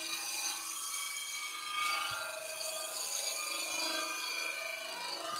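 A skew chisel slices a clean cut along spinning wood on a lathe, a soft, steady hiss and rasp lasting several seconds, fairly quiet and close with no voices.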